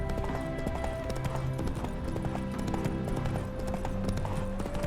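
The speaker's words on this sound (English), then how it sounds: "Spooking my horse. Roach doesn't like ghosts." Hooves of the horse Roach clip-clopping in The Witcher 3, a steady rhythmic gait over a tonal game soundtrack and ambience, with occasional voice-like sounds.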